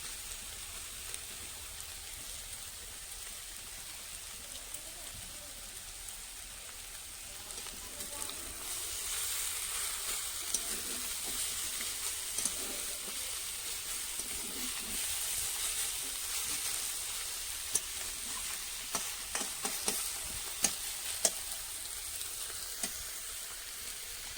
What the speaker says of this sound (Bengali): এরকম চেপে চেপে দিতে হবে, যাতে মাছের গায়ে যে রসগুলো আছে ওটা শুকিয়ে যায়, কড়ার যাতে টেনে নেয় গরম কড়া।